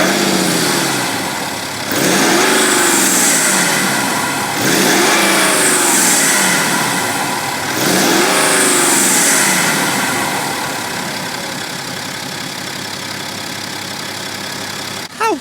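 Car engine with a fresh air filter and V-power fuel, revved in three strong rising-and-falling bursts close by, then settling to a steady idle.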